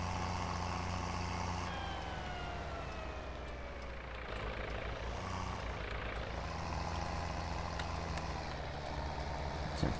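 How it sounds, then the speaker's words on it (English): An old tractor on a run-down farm drives along in first gear, a steady loud engine drone with a gliding whine over it, continuous for the whole stretch with no voices. "I don't know how well this tractor drives and"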